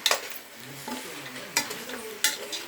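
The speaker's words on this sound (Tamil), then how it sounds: "அதில் நல்லா பெரட்டி விட வேண்டியதான்." A spoon stirs and scrapes masala in a pan for farm chicken curry on a simmer, giving soft scraping strokes with a few sharper clinks against the metal and a faint sizzle, quiet and close.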